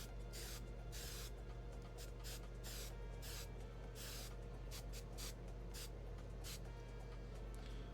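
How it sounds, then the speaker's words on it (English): Bursts of hairspray from an aerosol can, sprayed onto a cast resin model kit during a weathering and grime paint job, come as a series of close, sharp hissing puffs of varying length over a steady low hum. "We'll do one more of the hairspray."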